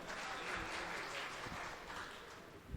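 Scattered clapping from a crowd rolls on steadily at moderate volume, a soft wash of many hands heard from some distance.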